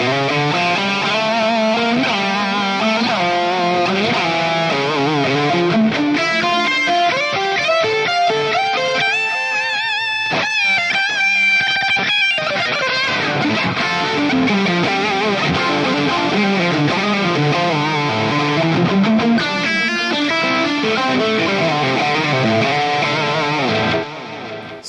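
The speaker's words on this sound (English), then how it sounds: "Let's see it, hear it with some delay." Heavily distorted electric guitar through a hot-rodded Marshall-style amp, playing chords and runs with repeating delay echoes trailing each note, loud and continuous throughout.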